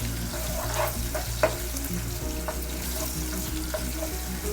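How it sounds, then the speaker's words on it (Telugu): Browned onions frying with curry leaves and ginger-garlic paste for a makhana masala curry, a steady close sizzle with light stirring over a low background hum. "ఇది బాగా ఫ్రై చేస్తాం."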